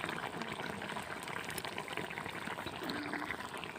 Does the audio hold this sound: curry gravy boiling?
yes